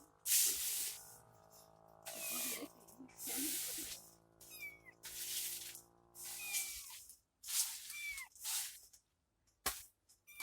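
A cat meows several times in short, rising calls, with muffled rustling and clatter around it and some faint voices nearby.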